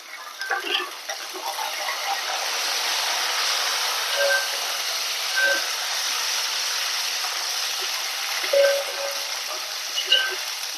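Washed, still-wet raisins and cashews spluttering in hot oil for beef biryani make a constant hiss broken by scattered sharp pops and crackles, fairly close and with no talking.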